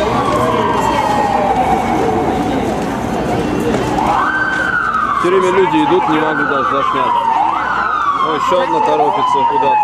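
A wailing ambulance siren sweeps up and down repeatedly amid busy New York street traffic, loud and close, while a person talks over it.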